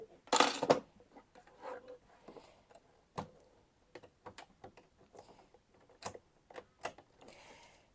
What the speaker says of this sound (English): we'll swap this foot over